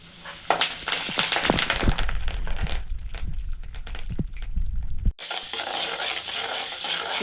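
Mustard seeds, curry leaves, urad dal and chana dal frying in hot oil: a loud crackling sizzle with rapid sharp pops and spatters, which drops abruptly to a quieter, steady fizz near the end.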